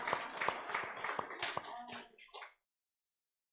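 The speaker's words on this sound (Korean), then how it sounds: "박수를 치려면 세게 하나님께 영광 돌리시죠" A church congregation at a Sunday worship service claps in quick, uneven bursts, loud and close, with sharp slaps and some murmuring voices before the applause stops abruptly into silence.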